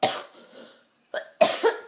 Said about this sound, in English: If you hear my coughing, yeah.